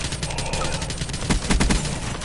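A burst of rapid gunfire rings out in a Call of Duty Black Ops 3 match, quick loud shots clustered over a steady game-noise bed, with faint talk in the background.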